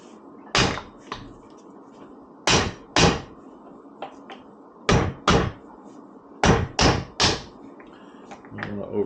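Sharp metal taps from a socket driving a shock part back into place during a Walker Evans shock rebuild on a RZR Pro XP4, about ten close, loud knocks in uneven pairs and clusters over a quiet background.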